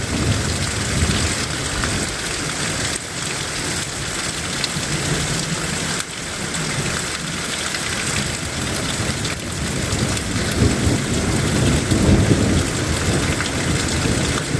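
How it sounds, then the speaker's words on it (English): Heavy rain pounding down during a thunderstorm in a tornado outbreak, a dense, loud, continuous roar with low rumbles of thunder underneath and no voices. "The rain's getting pretty hard right here now."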